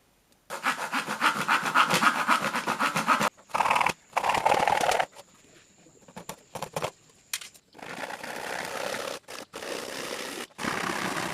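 A hand saw cuts through plywood in quick, rhythmic back-and-forth strokes, close and rasping, with short pauses between bursts of sawing.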